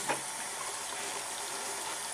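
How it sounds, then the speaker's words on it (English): A makeup brush cleansing glove is rinsed under a running tap, giving a steady hiss of flowing water with a brief splash at the start. "And then I do the same thing while I'm rinsing it under the water."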